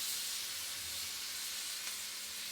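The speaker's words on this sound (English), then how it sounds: "Can you hear that sizzle?" A steady, quiet sizzle of onions frying on a hot plate, hissing evenly with no voices.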